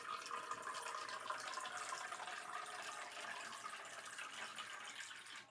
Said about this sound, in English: we're going to have Pinkie Pie fill up our cup that it was soaking in